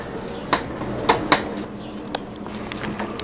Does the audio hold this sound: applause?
no